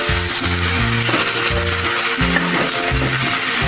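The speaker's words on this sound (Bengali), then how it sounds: "এই তেলেই আমি কাঁচামরিচ পেস্ট দিয়ে দেবো" Green chili paste sizzling loudly in hot oil left from frying tilapia, a continuous close frying hiss with music playing underneath.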